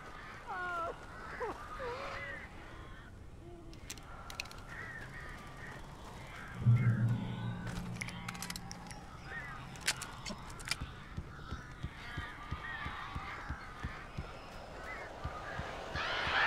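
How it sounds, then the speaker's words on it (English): Crows cawing in the video game Alan Wake, several harsh caws scattered through a quiet, eerie scene, with a low rumble and some game sounds partway through. "These birds are weird."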